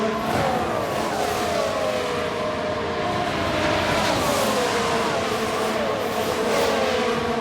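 A Ferrari Formula 1 car engine in the F1 Manager 22 racing game, a steady, loud high-pitched whine that rises and falls with gear changes as cars pass, continuous without talk.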